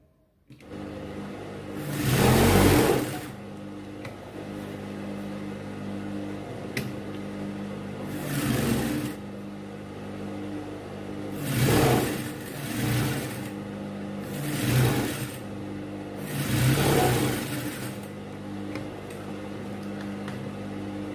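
A sewing machine stitches the facing of a box-pleat gown in five separate runs of motor whirring, each lasting about a second or two, with a quiet hum between runs.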